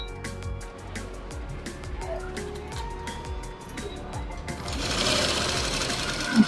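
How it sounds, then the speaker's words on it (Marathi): A sewing machine stitches a fabric zipper pouch, running steadily close by with a fast, even rhythmic clatter throughout and a louder, hissier stretch toward the end. "स्टिच करताना व्यवस्थित दोन्ही साईडनी लॉक करून घ्यायचे"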